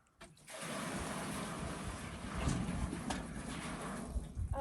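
Maple sap pours into a covered storage tank in a steady rushing gush that runs for several seconds, close and fairly loud, with no talking.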